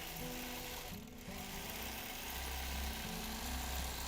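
Sewing machine running steadily during free motion quilting, a continuous close mechanical whir with a brief dip partway through before it picks up again.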